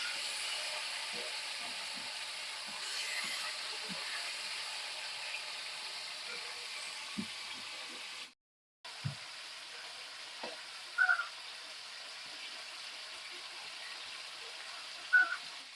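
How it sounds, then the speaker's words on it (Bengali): Kuche eel fish frying in a pan, a continuous soft hiss and sizzle with scattered light taps of stirring and turning, close and steady, with one brief break midway. "মাছগুলোকে এপিটোপিট ভালো করে নেড়ে ভেজে নিতে হবে"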